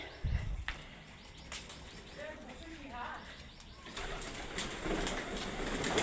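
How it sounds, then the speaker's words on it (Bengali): Several kinds of pigeons coo in a rooftop loft above a two-storey house, with occasional wing flaps and chirps nearby and a person talking over them at moderate volume. "এই হলো কবুতর। এখানে বিভিন্ন ধরনের কবুতর আছে।"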